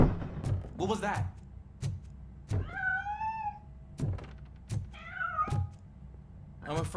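A cat meows in the video game Robocop: Rogue City, several drawn-out, wavering meows spaced apart, mixed with thumps, game sounds and speech.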